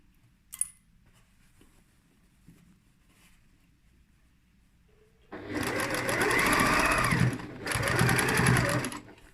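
Sewing machine stitching a lined tote bag: quiet handling at first, then a loud fast whirring run of stitches that pauses briefly and resumes, close by.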